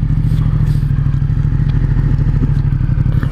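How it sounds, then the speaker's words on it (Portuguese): Ducati X Diavel motorcycle with its original exhaust idling close by, a loud, steady, deep throbbing rumble with dense low pulses and light mechanical clatter throughout, with no talk. "Olha o barulhão dela. Ele tá com escape original"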